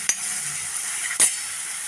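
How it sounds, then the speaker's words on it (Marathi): Ground green chilli, garlic and coriander hit a hot mustard-and-cumin tempering with a steady sizzle, punctuated by two brief clinks of a utensil against the pan. "मिरची, लसूण आणि थोडी कोथिंबीर मिक्सरला फिरवून घेतलेली आहे आणि ती आता फोडणी दिलेली आहे"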